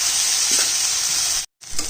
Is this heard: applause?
no